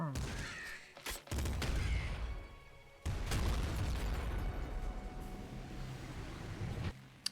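Shotgun blasts from the Nuclear Throne video game come as a few loud booming bursts with crunchy impacts, separated by short gaps, over a busy game soundscape.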